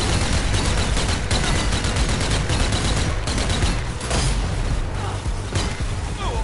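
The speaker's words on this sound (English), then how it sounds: "You just gotta keep shooting him." Sustained gunfire in Zombie Army 4 as a player keeps shooting a zombie, a dense, loud, continuous barrage of rapid shots with occasional heavier bangs running through the whole stretch without pause.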